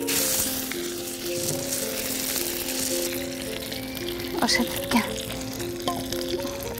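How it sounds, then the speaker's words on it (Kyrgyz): Bread dipped in egg fries in a cauldron of hot oil, giving a steady loud sizzle with crackling pops, while a person briefly speaks over it. "Нандарды сурап кылбайын деп жумурткага малып бышырып берем балдарыма"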